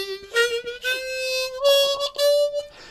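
Harmonica played with tight lips and too much tension: a sequence of thin, pinched single notes stepping upward, fairly loud and close, with short breaks between breaths and no talking.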